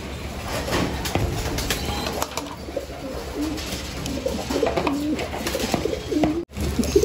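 Pigeons in a loft coo continuously at close range, with several birds overlapping in a steady murmur of calls.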